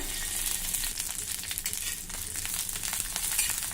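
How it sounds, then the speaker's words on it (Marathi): Cluster beans fry in two teaspoons of hot oil on an iron griddle, giving a steady, close crackling sizzle throughout with no talk. "इथे लोखंडाच्या तव्यावर दोन टीस्पून तेल गरम करायला ठेवलं आहे यामध्ये ही गवार घालूया"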